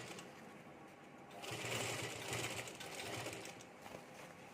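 A normal home sewing machine stitches piping onto a potali bag, its steady, fast mechanical whir running close throughout and growing louder and busier partway through, with no talking.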